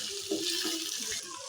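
Green chillies and onion dropped into hot oil with mustard seeds, curry leaves and crushed garlic for masala mandakki, a loud steady close sizzle with a few soft knocks beneath, with no talk.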